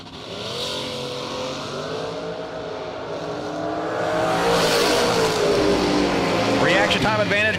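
Drag racing cars launch at a Cedar Falls drag strip, a Chevy Camaro among them, engines revving loud and rising to a roaring full-throttle run, with an announcer talking over the noise.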